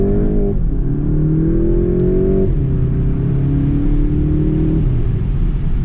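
A 2018 VW Golf GTI pulls hard under acceleration, its engine note climbing loudly and dropping at three gear shifts, heard up close without speech.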